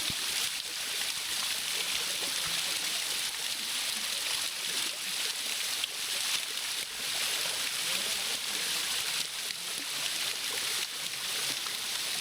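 A forest waterfall at Bhairavakona pouring into a shallow waist-deep pool, a loud steady broadband rush of falling water that stays constant throughout with no breaks.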